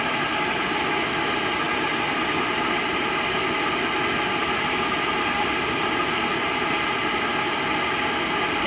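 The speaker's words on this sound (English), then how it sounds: "I'm going to go ahead and turn my heater on." Pentair MasterTemp gas pool heater starting up, a steady broadband roar with a low rumbling hum that holds level and close throughout, with no voices.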